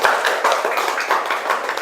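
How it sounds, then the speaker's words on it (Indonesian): A classroom of students claps for a classmate, a short burst of brisk, fairly close hand claps with a light rapid rhythm and no talking. "kasih tepuk tangan dulu untuk Yoga sebelum kita lanjut."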